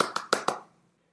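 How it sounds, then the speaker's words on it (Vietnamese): Four quick sharp claps in an even rhythm, close and fairly loud, then fading into silence, with no voices. "Vỗ tay!"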